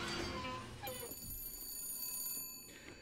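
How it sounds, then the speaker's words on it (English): A telephone rings in the video game Bioshock Infinite, its bright, sustained trilling tone carrying steadily for a few seconds with a faint murmur of background sound beneath. "Damn phone."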